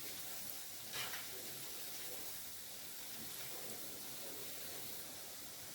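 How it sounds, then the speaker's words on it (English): Nigerian chin chin dough sizzles steadily in hot oil, a constant soft crackling hiss with no talking. "You can see the chin chin has come up and is sizzling"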